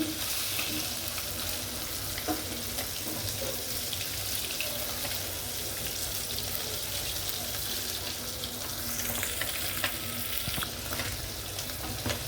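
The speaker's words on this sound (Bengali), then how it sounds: "পুঁটি মাছ ভাজলাম, সব পুঁটি মাছ ফ্রাই করলাম" Puti fish (swamp barb) red-frying in hot oil, a steady, dense sizzle and crackle that runs unbroken and fairly loud throughout, with no voices.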